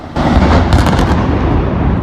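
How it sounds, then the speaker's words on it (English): A loud, close explosion-like boom bursts out at night in downtown Los Angeles, followed by a sustained rumbling roar with crackling bursts that fills the whole moment, with no speech. "You can even hear an explosion."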